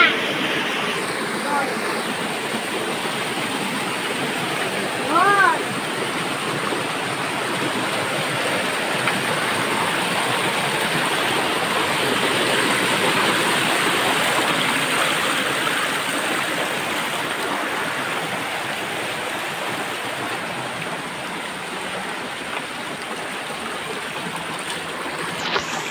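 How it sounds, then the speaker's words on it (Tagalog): Steady broadband roar of the waterfall at the head of Apong Falls, constant and loud throughout, close by, with a brief faint whistle-like sound partway through. "Sa ulo ng Apong Falls."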